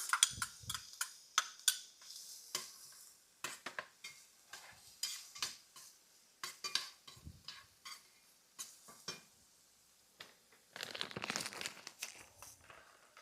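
Onions sautéing in warm oil in a pan, with repeated stirring and scraping clicks and a light sizzle, plus a louder crinkly burst toward the end.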